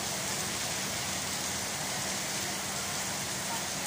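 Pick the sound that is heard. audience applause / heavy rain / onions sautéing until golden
heavy rain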